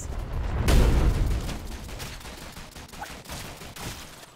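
Dense gunfire from bullets in the video game Rounds (modded), a loud rapid fusillade of overlapping shots that swells early and keeps rattling on at a slightly lower level to the end.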